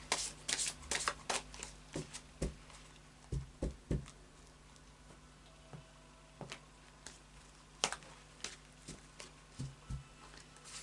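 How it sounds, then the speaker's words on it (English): Tarot cards being shuffled, a series of soft, close riffling and flicking bursts in irregular rhythm with brief pauses between, quiet and alone. "Just do another couple of shuffles"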